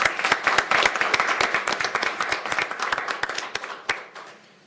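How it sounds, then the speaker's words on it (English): A small group at a county council meeting breaks into a round of applause after a unanimous resolution vote, with distinct, sharp, closely spaced hand claps at moderate distance that thin out and fade near the end. "Please join me in a round of applause."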